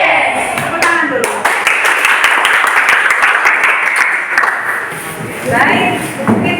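A group of people in a classroom clap their hands together, a loud sustained burst of applause with distinct sharp claps, while voices talk over it near the start and end.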